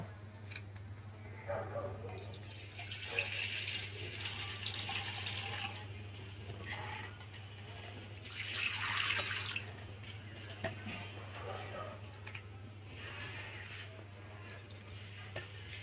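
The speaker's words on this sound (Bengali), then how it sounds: "2 থেকে 3 বার জল দিয়ে চালটা আমি ধুয়ে নেব।" Rice rinsed in a bowl of water, washed two or three times for Kolkata-style chicken biryani, with soft splashing and trickling in bursts over a steady low hum, fairly close.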